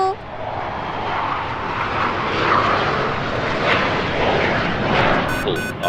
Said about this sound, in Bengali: আকাশে একটা ফাইটার বিমান দেখা যাচ্ছে।